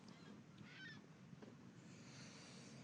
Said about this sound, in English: Was that a seagull?